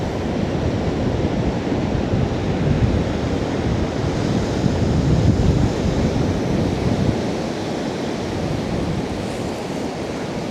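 Strong wind and surf roar along the Benidorm coast on a 14°C windy day, a dense, continuous rushing wash with buffeting gusts across the microphone and no voices.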